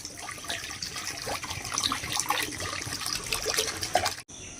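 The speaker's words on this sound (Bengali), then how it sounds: "চিনি শিরা তৈরি করবার জন্য আমি পরিমাণ মতন জল দিয়ে দেবো।" Water is poured into a pan on the stove to start sugar syrup, a steady close splashing trickle running for several seconds before cutting off abruptly.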